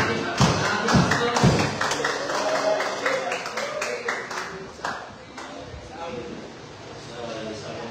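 A church congregation clapping as the pastor approaches, sharp hand claps and thuds at first that thin into scattered taps, with voices talking over them.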